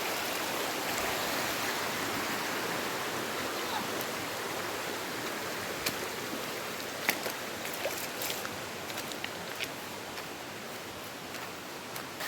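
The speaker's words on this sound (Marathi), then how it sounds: "ही बघा आपली नदी" A river flows below as someone walks above it in a rural waterfall area near Ghonsari Sapatwadi, a steady broadband rushing wash with faint clicks and rustles over it, fairly soft and without voices.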